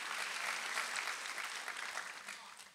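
Church congregation applauding during a sermon, a dense, steady wash of many hands clapping that fills the clip and fades slightly toward the end.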